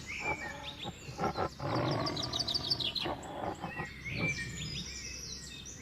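A cartoon tiger in an animated story gives rough, drawn-out roars in several surges, with faint bird chirps scattered over a moderately quiet forest background.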